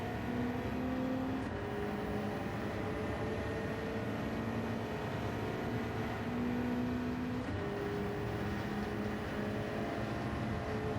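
Porsche 904 GTS race car engine heard from the cockpit in Gran Turismo 7 on the Le Mans circuit, a steady loud drone with gear-shift pitch sweeps rising and falling throughout, no voices.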